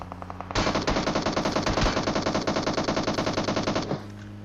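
Automatic gunfire in the mobile game PUBG Mobile rattles out from behind as one long, rapid, evenly spaced burst lasting several seconds, loud and close, then stops abruptly.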